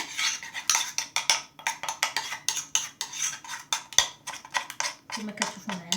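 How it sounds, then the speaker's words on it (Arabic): A small spoon clinks and scrapes steadily against a bowl while a homemade face mask mixture is stirred, making quick rhythmic taps close up that continue throughout, with no speech heard. "نخلطو هاد الخليط بحال هكا"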